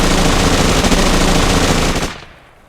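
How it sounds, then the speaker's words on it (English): A loud, sustained burst of rapid automatic gunfire used as a sound effect during tabletop role-playing narration, with dense continuous shots that cut off abruptly near the end into quiet. "They see him and start shooting at him."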